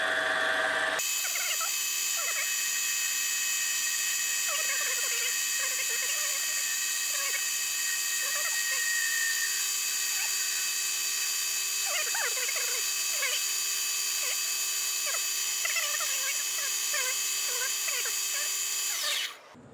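A lathe turns a Cub Cadet bushing blank with a steady high whine, while the cutting tool adds scattered squeals and chirps across the long, continuous run before the machine stops.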